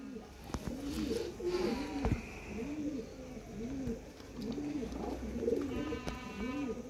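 Pigeons from a prized breeding pair coo in a steady, repeating rhythm of soft, rolling calls, fairly close, with faint background chatter and occasional clicks.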